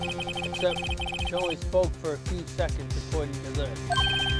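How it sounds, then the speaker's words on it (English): A cellphone ringtone from the video game Phoenix Wright: Ace Attorney chimes in quick repeated electronic bursts under a voice, with game music and text blips running alongside. "I heard a phone ring just now."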